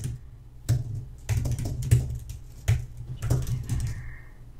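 Keys on a computer keyboard are tapped in uneven bursts, a series of close, crisp clicks and thuds with short pauses between groups, heard alone without talking.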